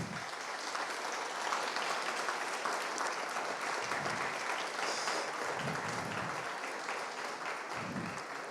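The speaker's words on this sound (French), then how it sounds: "je vous invite d'ailleurs à les applaudir fortement" Sustained audience applause at an exhibition opening, steady and fairly distant, with a few louder bursts of clapping rising and falling through the hall.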